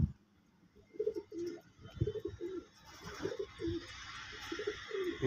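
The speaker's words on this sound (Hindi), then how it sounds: "देखिए भाई ये कुछ मद्रासी कबूतर है जिसमें से एक ही फीमेल है" Madrasi pigeons cooing in a repeated series of soft, low, rounded calls with short pauses between them, fairly close but quiet, no talk.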